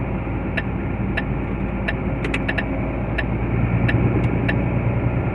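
A container truck drives near the port of Le Havre, its engine a steady low rumble with road noise throughout, growing slightly louder toward the end, and a few faint ticking clicks on top.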